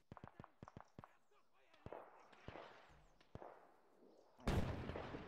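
Mortar fire in a World War II milsim video game set in Carentan, a quick series of sharp distant cracks and thumps followed by a louder close blast with rumbling debris.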